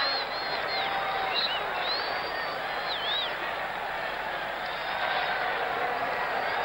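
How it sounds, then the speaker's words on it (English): A football crowd in Philadelphia cheers after a goal at the 1976 Bicentennial tournament match between a combined U.S. side and England, sustaining a broad, steady roar with whistles rising above it throughout. "that's cheered up the crowd in Philadelphia"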